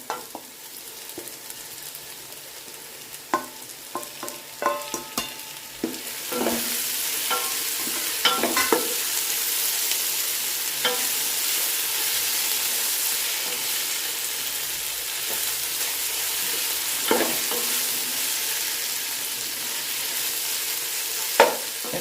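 Tomatoes added to hot oil for a vegetable biryani sizzle and fry steadily in a pan, with repeated scraping and stirring strokes of a spoon; the frying grows louder and continuous after the first few seconds, with no talking.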